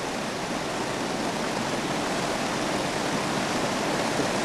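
Mountaineer Creek flows past at close range, giving a steady, unbroken rush of water that holds an even loudness throughout, with no voices over it.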